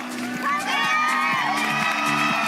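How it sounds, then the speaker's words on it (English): A large crowd at a climbing competition cheers and whoops loudly and continuously, dense voices layered together over the short stretch. "And listen to that crowd."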